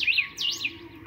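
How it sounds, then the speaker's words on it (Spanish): A pet yellow-winged cacique, the boyero ala amarilla, gives loud, close, clear calls: two quick rising-and-falling whistled phrases with no voices around them. "ahí les muestro mi boyero a la amarilla o mundo alegre"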